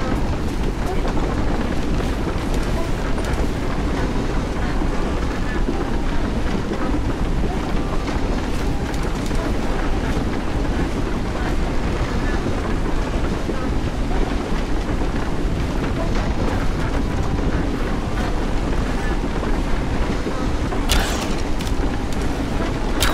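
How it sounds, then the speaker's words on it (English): A raft on the water in Rise of the Tomb Raider, in a catacomb of sacred waters: a continuous, dense wash of rushing water and wind-like noise at steady loudness, with a brief brighter splash near the end. "Raft has a crank on it."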